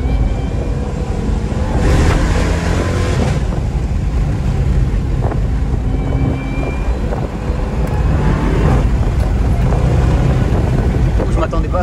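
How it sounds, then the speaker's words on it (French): A Dodge Charger engine accelerates hard during a supercar passenger ride in Tresques, a loud, continuous close-up roar with wind buffeting and voices faintly mixed in. "C'est le moteur de la Dodge Charger L4."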